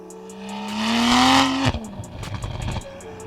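The stock exhaust of a 2021 Toyota Supra on a canyon run climbs in pitch through a single loud rev, cuts off sharply at the shift, then settles into a lower, rumbling pull.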